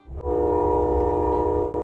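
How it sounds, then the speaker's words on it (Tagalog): A loud, sustained Amtrak locomotive horn blast sounds close by, holding one steady chord for nearly two seconds before cutting off. "kailangan nating tiisin ang ingay ng busina buong gabi"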